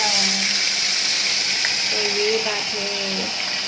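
Small mowa fish sizzle steadily in a pan of hot oil as water cooks off, a continuous frying hiss running beneath a voice talking nearby.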